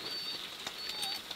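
Steady light rain falling on a surface along the North of Superior coastline in Ontario, a soft continuous patter close by, with faint bird calls over it and no talking.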